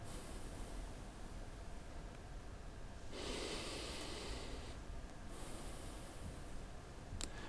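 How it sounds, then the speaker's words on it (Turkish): Slow breathing in and out through the nose during a physiotherapy breathing exercise, quiet airy breaths, one longer inhale in the middle and a shorter one later, against faint background hiss. "Burundan alıp burundan vermelerini istiyoruz öncelikle."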